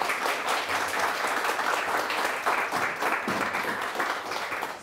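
An audience applauds after a talk on fair creative economies in Bristol and Bath, a sustained, even wash of clapping heard at moderate distance.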